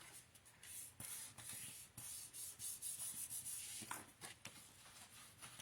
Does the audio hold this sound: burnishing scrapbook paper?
yes